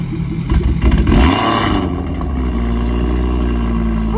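A BMW M340i on drag radials revs hard in a quick burst of throaty blips, then settles into a steady, close idle rumble with a faint hum behind it.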